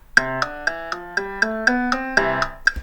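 A synthetic piano tone from the Chrome Music Lab web app plays a rising sequence of about ten evenly spaced single notes, clean and close, with a bright electronic sheen.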